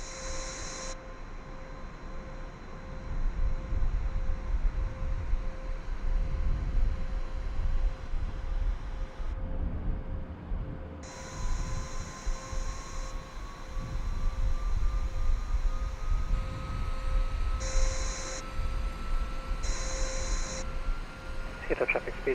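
A simulated Boeing 787-10 in Microsoft Flight Simulator runs its APU with a steady whine while the right engine starts, a tone rising gradually as it spools up, with a few short electronic chimes over the continuous hum.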